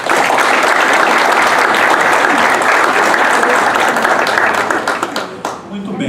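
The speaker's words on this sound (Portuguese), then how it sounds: "a quem eu peço uma salva de palmas" Loud, dense applause fills an academy hall during a memorial session in Minas Gerais, then fades out near the end as a voice begins speaking.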